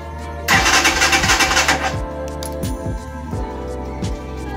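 A motorcycle electric starter cranks a few times with a rapid rhythmic whir, then the engine catches and idles with a steady low rumble, close and loud.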